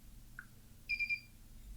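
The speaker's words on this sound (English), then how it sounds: "You heard it beep." A smart safe's alarm gives a short electronic beep as it is disarmed from a phone app: one brief faint chirp, then a slightly longer two-tone beep, quiet and alone.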